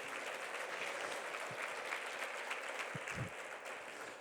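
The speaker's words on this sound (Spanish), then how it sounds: "one applause for our panelists once again" Audience applause after a round-table panel on Catholic universities, faith and culture, steady dense clapping throughout at moderate level, with no voices.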